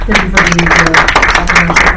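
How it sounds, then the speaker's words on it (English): Audience applause at a National Press Club event, steady dense clapping across the whole stretch with a voice talking over it. "Let's give a warm round of applause."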